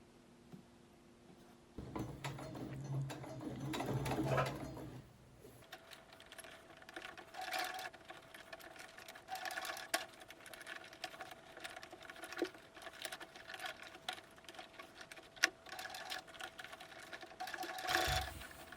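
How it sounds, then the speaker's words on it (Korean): Sewing machine joining outer and lining fabric for a camera pouch, a quiet rapid stitching rattle in short runs with pauses and light handling clicks between them, no talking. "1cm 간격으로 합봉해 줄게요"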